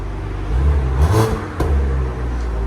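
A Toyota Supra GR with a 3.0L inline-six and aftermarket exhaust revs up hard, a loud close rumbling surge that peaks briefly, dips, then settles back into a steady throaty drone.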